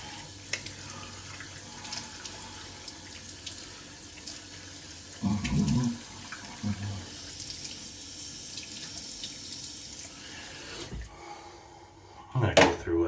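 A running tap gives a steady hiss as shaving soap lather is rinsed off. A few louder splashes and clunks break in before the water shuts off, and brief speech and handling noise follow near the end.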